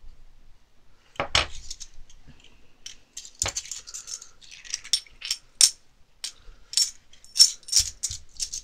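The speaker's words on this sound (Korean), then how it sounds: "동전 엄청 소리가 좋습니다." Metal coins clink and jingle in a scattered series of bright, close taps that come quicker toward the end, with quiet gaps between.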